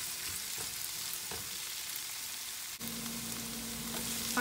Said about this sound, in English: After 5 minutes of potatoes frying